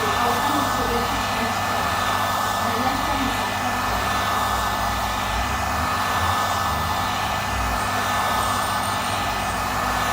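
Steady, loud whooshing roar of a heat gun warming a Samsung J1 phone screen to lift off its touch panel, constant and unbroken from start to finish.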